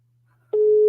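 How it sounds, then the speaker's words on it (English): A telephone line tone during a call-in talk show: quiet at first, then a single loud, steady electronic tone starts partway through and holds unbroken to the end, with no voices. "The person phone is ringing."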